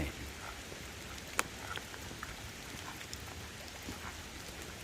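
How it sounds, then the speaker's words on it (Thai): Rain falling steadily outdoors on a mountain trip, a faint continuous hiss with scattered drops tapping nearby. "วันนี้ ฝนตกครับ"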